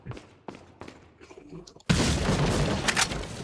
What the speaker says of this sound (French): Une grenade qui pépette, une grenade aveuglante.